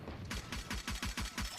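Pistol gunfire in a Valorant match, a quick burst of about six sharp, evenly spaced shots over a little more than a second, fairly faint.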